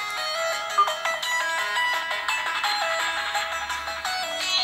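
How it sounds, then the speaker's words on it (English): A dubstep track plays at maximum volume through the rear speaker of an Evolio Aria Mini 8-inch tablet. It sounds thin and tinny, with busy synth stabs and no deep bass. "I've already selected the song we're going to listen to in order to test the speakers at the back. We're going to listen to a bit of dubstep."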